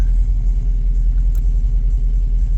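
Opel Manta GTE engine running while parked, a steady deep rumble with a faintly pulsing low idle, close and continuous.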